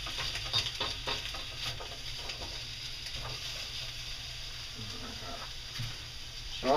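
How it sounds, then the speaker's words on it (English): Faint, steady hiss and crackle of onions sizzling in a pan, with soft stirring clicks and a person talking quietly over it. "So that's starting to sizzle."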